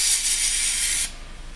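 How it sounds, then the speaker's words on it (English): A Homax Pro Grade popcorn wall texture spray can, held upside down to clear its dip tube, gives a loud steady hiss that cuts off after about a second, leaving faint background noise. "you turn the can upside down,"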